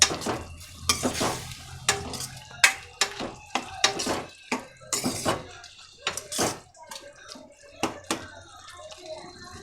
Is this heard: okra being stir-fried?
yes